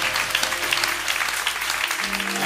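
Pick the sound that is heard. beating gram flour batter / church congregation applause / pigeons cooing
church congregation applause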